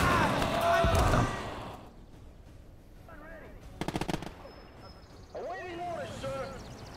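Gunfire in the WWII strategy game Gates of Hell, mostly a short rapid burst of shots midway through, with other in-game sounds before and after it.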